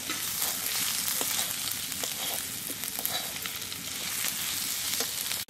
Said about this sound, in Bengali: আদা রসুন ভেজে নিছি